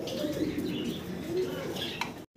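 A pair of Andalusian red bar pigeons coo softly and steadily close by, low rolling calls with a few faint chirps.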